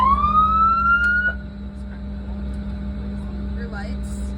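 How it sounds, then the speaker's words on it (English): A police truck's siren at a Police Week touch-a-truck event gives a single rising wail that cuts off after about a second, leaving a steady low engine hum. "And then this is our siren."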